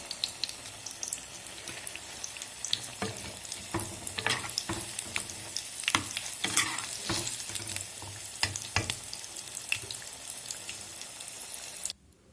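Paneer fingers frying in hot oil give off a steady, close sizzle, with crackling pops and occasional stirring clatter all through, until the sound cuts off abruptly near the end.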